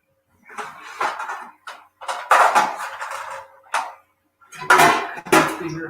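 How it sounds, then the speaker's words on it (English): Dishes, pots and pans clatter and clink in irregular bursts as they are washed and rearranged, close and fairly loud, with brief pauses between knocks of metal and crockery. "it may sound like I got a lot of dishes"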